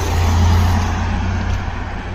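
A car rushes by at close range on the Doshi mountain road near the Otome Tunnel, a loud, continuous rumble of engine and tyre noise that swells early and then eases slightly.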